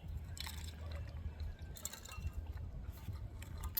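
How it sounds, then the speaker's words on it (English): Ice water is poured, a faint, steady liquid trickle with light clinks, heard quietly over a low background rumble. "Nice cold ice water."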